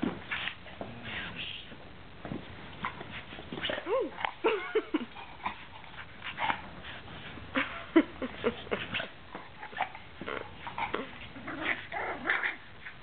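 A dog growls and whimpers in bursts, with yips and snarling noises, close by and mixed with a person talking throughout.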